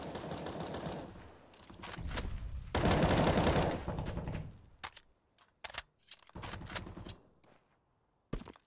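Rapid automatic gunfire bursts from Counter-Strike: Global Offensive on the dust2 map, loud and close, in several sustained volleys separated by short gaps and ending with a few sharp isolated shots.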